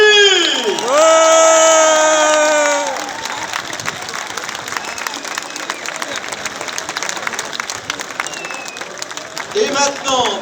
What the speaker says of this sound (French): Chantilly, on les applaudit!